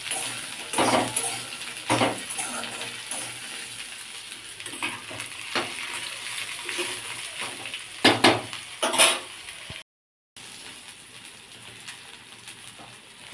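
A spoon stirs chopped green chillies and ginger in a bowl, producing a series of uneven scraping and clinking strokes against the dish at close range, with a brief gap of silence near the end.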